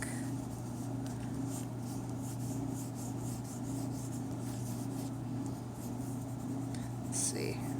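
Side of a pencil shading hair on a portrait drawing makes a soft, continuous rasping rub in close, quiet strokes over a low steady hum, with no talk.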